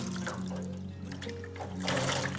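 Water trickles and splashes in a sink while a hair topper is washed in soapy, bubbly water. It comes as soft intermittent swishes and pours over a low steady hum, quiet and close, louder near the end.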